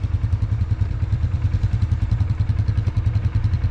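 Off-road ATV engine running steadily near the microphone on a coastal trail, a continuous low throbbing rumble with rattling clatter throughout and no speech.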